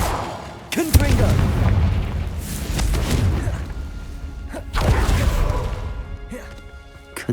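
Fiery Confringo blasting spells burst in a Hogwarts Legacy battle, several loud booming impacts at irregular intervals over a continuous rumbling game soundscape.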